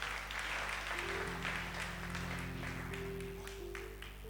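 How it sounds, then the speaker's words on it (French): Church congregation clapping in praise, a steady wash of applause under a sustained organ or keyboard chord, moderately loud and continuous throughout. "On va acclamer encore le Seigneur Jésus-Christ de Nazareth."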